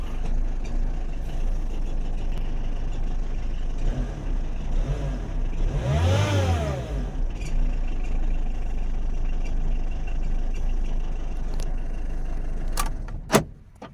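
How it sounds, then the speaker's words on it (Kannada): A Tata Indigo CS TDI turbocharged diesel engine idles steadily nearby, rising once in a short rev and falling back to idle, with a few clicks toward the end. "Engine sound."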